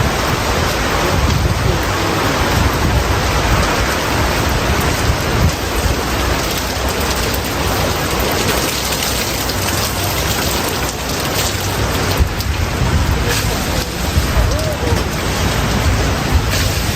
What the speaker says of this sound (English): it's not supposed to rain all day